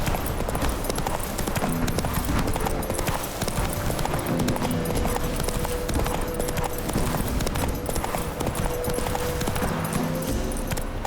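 Horse hooves galloping in The Witcher 3, a fast, steady clip-clop that carries on throughout, close and loud, with faint game ambience beneath.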